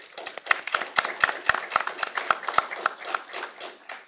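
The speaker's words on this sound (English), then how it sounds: "Well, let's give them another round of applause." A small audience at a state board of education meeting gives a round of applause, a sparse handful of distinct hand claps in loose rhythm, close and clear.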